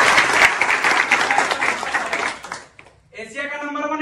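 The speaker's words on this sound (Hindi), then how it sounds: "इनके जोरदार ताली बजा दीजिए" Students at a computer hardware training institute break into loud, dense applause that fades out after about three seconds, followed by a voice speaking.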